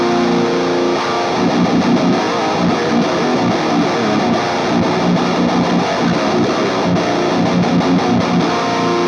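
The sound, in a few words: high gain distorted electric guitar through practice amp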